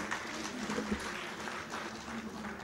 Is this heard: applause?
yes